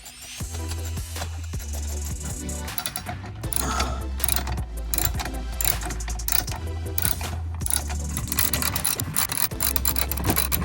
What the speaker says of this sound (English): Actually, a ratchet might even work better.